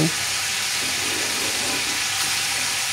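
Chicken sautéing in oil and spices for dhaba-style chicken, giving a dense, continuous sizzle and hiss up close, steady throughout with no voices.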